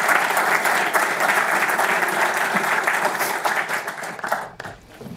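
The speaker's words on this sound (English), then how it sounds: "So I have a round of applause." Audience at an Arctic wilderness-management panel gives a round of applause, a dense, even clatter of many hands that fades out over about five seconds.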